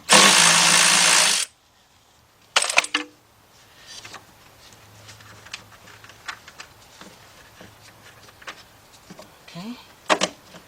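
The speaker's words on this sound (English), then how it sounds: "So I've got my 10mm deep, 3/8 drive, my cordless ratchet. Let's get both of those off." A cordless ratchet with a 10mm deep 3/8-drive socket removes nuts from an evap solenoid on a Volkswagen Beetle: a loud, harsh buzzing burst up front, then a short whir and scattered clicks and clatter of parts nearby.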